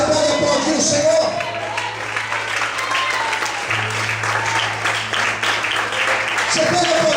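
A church congregation applauding the Lord, dense sustained clapping from many hands close by, with a low held organ or keyboard tone running underneath.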